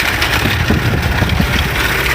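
A rebuilt flathead four-cylinder Ford Model A engine with an updraft carburetor idles close by, giving a loud, steady, low rumble that holds without change and has no talk over it.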